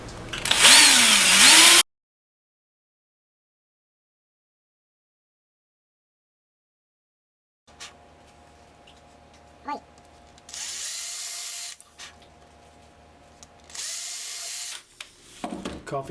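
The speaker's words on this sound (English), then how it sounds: "All right, let's drill these" A power drill bores through a leather knife sheath in a short loud burst, falls silent, then returns in two more bursts over a faint background hum.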